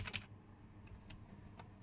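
Keyboard typing on a computer during a step-by-step AI automation build, a quick burst of clicking keystrokes at the start, then a few sparse, faint taps over low room noise.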